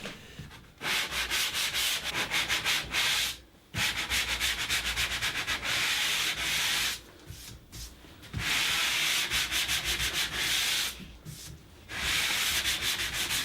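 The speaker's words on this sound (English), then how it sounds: "These are sanded back quite aggressively before getting a second coat of primer undercoat." Cabinet parts coated in primer undercoat, cut edges included, are sanded back vigorously by hand in long, steady, close rasping strokes, broken by a few brief pauses.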